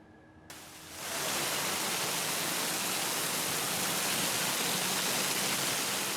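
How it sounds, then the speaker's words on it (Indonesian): Heavy rain driven by strong wind lashes part of Yogyakarta on a Thursday afternoon. After a short quiet start it swells into a loud, steady, dense roar that continues unbroken to the end, with no talk. "Sejumlah video amatir warga merekam hujan deras disertai angin kencang menerjang sebagian wilayah Yogyakarta Kamis sore."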